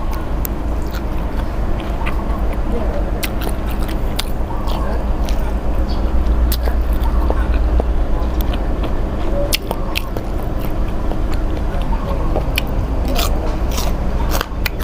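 Close, loud eating sounds of sweet pork liver with steamed rice and mixed vegetables, with steady crunchy biting and chewing throughout and no talking.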